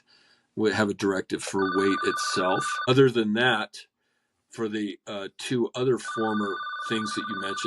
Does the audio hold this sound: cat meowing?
no